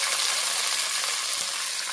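Gongura leaves frying in hot oil in a pan for a pickle, a steady bright sizzle heard close and loud without pause, with no talk over it.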